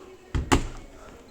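The door of a basic Beko washing machine in a store gives two quick, close knocks in succession, a dull thunk followed by a sharper bang, then quiet.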